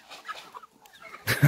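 Farm chickens in a rural community clucking as they hurry toward someone shaking a feed container, soft scattered clucks giving way to a louder, close burst of clucking at the end.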